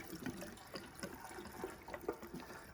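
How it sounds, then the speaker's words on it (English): Petrol poured from a container into a 270cc go-kart engine, a soft, close, uneven trickle and gurgle of liquid with small splashes, faint and alone. "you've got to get it over there so it actually starts pouring"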